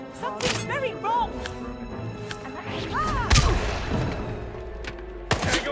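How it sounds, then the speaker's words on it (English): Gunfire in the video game Hitman 3, with several sharp, loud shots and heavy impacts among frantic shouting voices and synthetic chirps, all close and chaotic. "Gunshot!"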